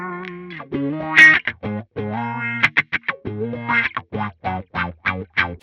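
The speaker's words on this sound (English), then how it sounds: "so now it is a active wah" An electric guitar played through an active wah pedal gives short, sharply articulated notes and quick phrases with a vocal, sweeping filtered tone and distortion, loud and alone.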